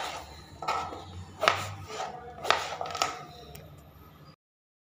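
A knife cuts through brinjal (eggplant) on a board in a kitchen, giving several crisp, evenly spaced slicing thuds, close and moderately loud, with no talk.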